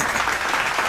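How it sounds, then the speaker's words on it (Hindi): Applause from a studio audience during a Hindi comedy talk show, a steady burst of clapping filling the whole moment at close range. "ताली मार दे भाई, मार दे"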